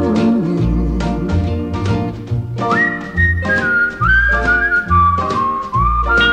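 A whistled melody from a 1961 RCA recording, carried loud and clear over steady band accompaniment with a bass line and sustained chords.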